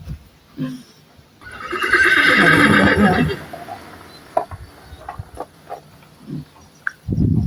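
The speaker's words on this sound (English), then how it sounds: "Keep away from horses." A horse lets out one long, loud whinny up close, followed by scattered snorts, light hoof knocks and outdoor rustling, with another snort near the end.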